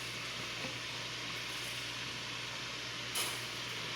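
Cabbage sizzling in a soup pot, a steady close hiss and crackle of frying with a faint stir and one brief louder hiss near the end, no talking.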